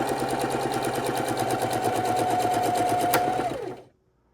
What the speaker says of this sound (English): we're going to sew this straight across